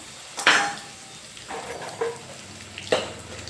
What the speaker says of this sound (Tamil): இப்போ பார்த்தீங்க அப்படின்னாக்கா நம்ம வச்சிருக்க இந்த மிளகாயை ஆட் பண்ணிடலாம்.